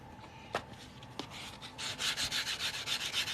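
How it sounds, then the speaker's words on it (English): Abrasive sanding on the edge of a ring made from a silver coin, such as a Britannia or Morgan dollar: a couple of sharp taps, then a steady run of rhythmic back-and-forth rasping strokes, close and fairly loud, with no talking. "Go ahead and sand this edge a little bit."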